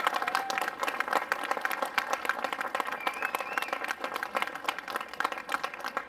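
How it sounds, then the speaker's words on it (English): Audience applause for World War II veterans at a gun show event, many hands clapping in a dense, steady stream with occasional sharper claps and light crowd noise, sustained and fairly close. "let's have another round of applause for living history."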